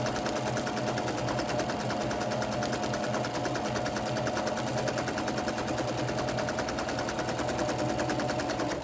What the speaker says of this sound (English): My stitch length is kind of wide, which is why I can sew through that quickly